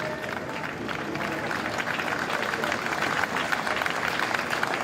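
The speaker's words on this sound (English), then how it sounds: "Big cheer, presumably, for Rishi Sunak." A large crowd cheers steadily for new British Prime Minister Rishi Sunak, a dense continuous roar of voices and clapping that holds level throughout, loud and sustained with no break.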